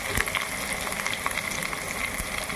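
Onion and dried red chilies sizzle in hot oil in a pan for tempering spinach and moong dal, a steady close crackle with small popping bursts, no voices over it.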